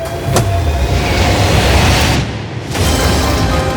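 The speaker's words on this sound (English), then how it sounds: "Now, not only is this the fastest car in the world, oh my gosh, it accelerates so fast." A car billed as the world's fastest, with enough suction to drive upside down, accelerates in a loud, sustained roaring rush that dips briefly near the end, then surges again with a sharp boom early on.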